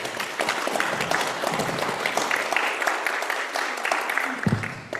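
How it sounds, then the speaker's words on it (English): At a district school board meeting, the room applauds newly welcomed staff with a steady patter of clapping from a moderate gathering, sustained for several seconds before tapering off, a brief low thump near the end. "if you can all join me in giving them a round of applause"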